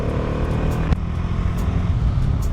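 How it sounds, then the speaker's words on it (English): A freshly serviced motorcycle engine runs steadily at close range, a constant dense drone with a brief sharp knock near the one-second mark, and no talk over it. "The bike is running so smooth"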